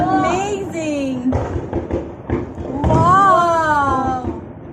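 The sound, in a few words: fireworks exploding at Singapore National Day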